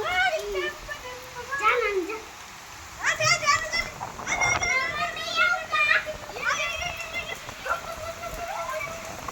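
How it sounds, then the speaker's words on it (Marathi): First monsoon rain falls as children play outside, their excited shouts and high voices ringing out close over a steady hiss of rain throughout. "आमच्याकडे पहिला पाऊस आला"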